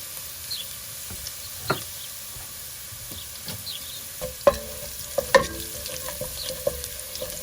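Scattered sharp pops and crackles over a low frying hiss, irregular and close, as mustard seeds spatter in hot oil.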